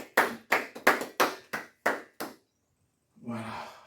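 Church worshippers clap together in praise of the Lord, about seven crisp, evenly spaced claps in unison, followed by a short pause before a voice begins speaking.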